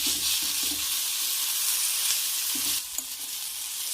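Chicken sautéing in a hot pan, a loud steady sizzle with a few low knocks of stirring and a short dip as the food is moved.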